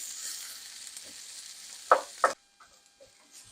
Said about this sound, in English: these onions and peppers have been cooking down for about 5 minutes, and they're starting to get tender